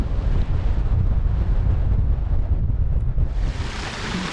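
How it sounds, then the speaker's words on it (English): Strong, steady wind buffets the microphone on an exposed Scottish mountain shoulder near Maoile Lunndaidh in Glen Carron, a continuous roaring rush with no pauses and no voices. "Wind's a bit stronger than we had anticipated."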